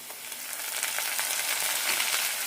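Ground tomato paste hits a hot pan for a soya chunks tikka masala, giving a close, steady hissing sizzle that swells slightly and runs without pause.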